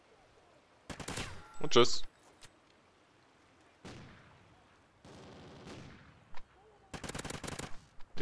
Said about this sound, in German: die ballern hier schon wieder alle mit dem Sniper durch